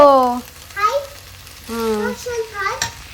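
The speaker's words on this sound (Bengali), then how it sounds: "নুডলসটা আস্তে আস্তে করে মেশাতে হবে" Noodles stir-fried in a pan with black soy sauce give off a steady sizzle and scraping of stirring, partly covered by a high, sing-song voice that comes and goes.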